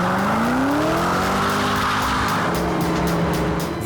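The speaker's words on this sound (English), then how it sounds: "This is the new Ford GT." A Ford GT supercar roars hard close by, its engine note climbing while the tyres squeal and skid continuously through a few seconds of aggressive driving.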